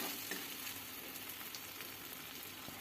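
Fried potatoes sizzling in a poppy seed and coconut paste, a faint, even crackle of frying with light stirring and no voices.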